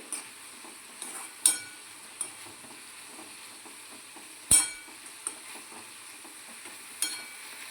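Fenugreek leaves sautéing in a pan on a gas stove while making millet and fenugreek vada, a soft steady sizzle with a few sharp clinks of a spoon against the pan.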